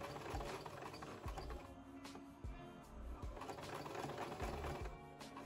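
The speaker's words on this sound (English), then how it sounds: "I just did this by pinning them from the inside and sewing as close to the dart seam as possible." Sewing machine stitching a dress lining to fabric near a dart seam, heard as a quiet rattling mechanical hum with irregular soft thumps and clicks, fairly faint and alone.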